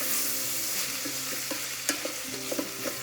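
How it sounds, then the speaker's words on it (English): Onions fry in a pan for chana masala, a constant sizzle broken by scraping stirs and a few sharp clinks of the spoon against the pan, with no voices. "Nicely cook the onions for 5 minutes."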